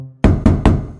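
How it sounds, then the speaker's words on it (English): Three sharp, loud knocks on a door in quick succession, close and evenly spaced, ringing briefly after each hit, in an animated musical telling of The Wolf and the Seven Little Goats. "somebody knocked on the door."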